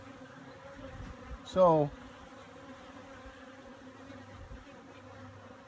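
Honeybees buzz steadily around a top bar hive in Tanzania, a low continuous hum with one louder rising drone as a bee passes close, a single short word spoken briefly.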